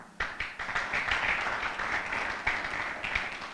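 A church youth service congregation breaks into sustained applause, a dense, steady wash of clapping with a few sharper bursts, fairly close and continuous throughout.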